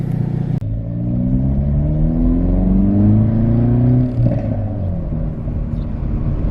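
A Hyundai Veloster N with a louder exhaust revs hard close up, the engine climbing in pitch in a long sweep, then dropping with crackling exhaust pops and a rough idle rumble.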